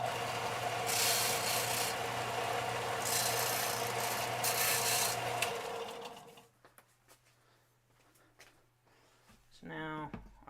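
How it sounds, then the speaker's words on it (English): A disc sander grinds down the edge of a shim with a loud, steady abrasive roar that holds for about six seconds and then cuts off, leaving a low motor hum and a few scattered knocks and clicks. "I'm going to go try and round that off real quick on the disc sander"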